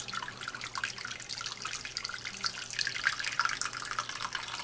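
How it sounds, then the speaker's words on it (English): Heated water poured into the bottom baking pan of a water bath for a cheese flan, a steady close splashing pour with no talk. "we're going to now put water into the pan, the bottom pan"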